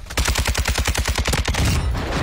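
Rapid automatic gunfire in a battle royale video game: a loud, close burst of about a dozen evenly spaced shots over a second and a half, ending in a dense rumbling wash of noise, with no voices.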